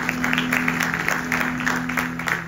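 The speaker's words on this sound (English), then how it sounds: "Give her a round of applause." Audience applause during a Ganesh Chaturthi celebration, a steady patter of many hands with a sustained tone humming underneath throughout.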